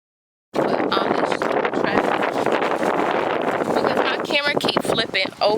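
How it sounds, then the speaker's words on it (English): Steady, loud wind buffets the microphone outdoors throughout, with rustling and some clattering near the end. "It's kind of windy out here, but it's a nice wind."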